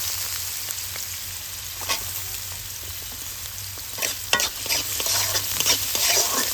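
Chopped carrots fry in hot ghee and oil, giving a steady close sizzle with scattered clicks and scrapes of stirring. There is no talk.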